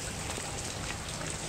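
Rain falls steadily in an even, hissing patter that holds at a constant moderate level with no voices.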